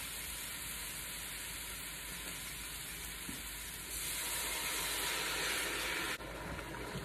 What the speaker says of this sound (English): I'm going to deglaze with the wine.